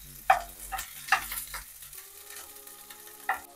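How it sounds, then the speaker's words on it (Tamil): Onions with ginger and garlic being sautéed in a pan: a few sharp spatula knocks and scrapes stand out over a faint sizzle, with soft tonal music in the background and no talk. "வெங்காயம் கொஞ்சம் வதக்கிக்கலாம்."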